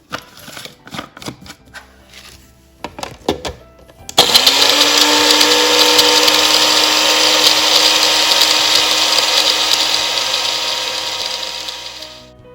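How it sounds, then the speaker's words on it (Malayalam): A mixer grinder grinds whole spices with sugar for a plum cake, its motor starting abruptly after a few clatters and running loud and steady before slowing at the end. "ഈ 4 കാര്യങ്ങളും കൂടെ 2 സ്പൂൺ ഒരു ഷുഗറിനകത്ത് പൊടിച്ചെടുക്കും."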